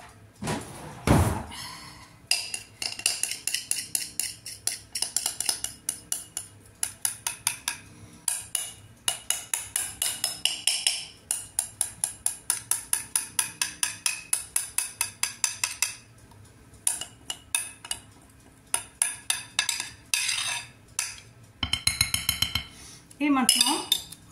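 A spoon scrapes and clinks rapidly against a bowl in steady, close bursts of metallic taps, with brief pauses between runs and a louder knock near the start.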